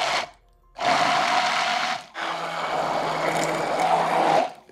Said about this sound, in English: So we're going to put the blender in there.